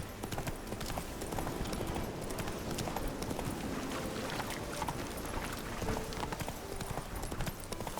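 The horse Roach gallops in The Witcher 3 with a fast, steady clip-clop of hooves that carries on throughout under faint background sound.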